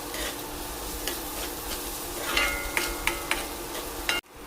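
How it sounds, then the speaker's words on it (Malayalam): Onions and shallots sautéing in oil in a pan for a homemade curry, a steady soft sizzle broken by several scraping stirs of a spoon, ending with a sharp clatter. "ഉള്ളിയും സവാളയൊക്കെ ഒന്ന് മൂത്ത് വന്നിട്ടുണ്ട്"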